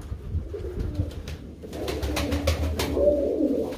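Pigeons of the boz kirli and dumanlı kirli breeds coo in a loft, soft repeated low coos layered over each other at close range, with a few brighter calls later and no talk.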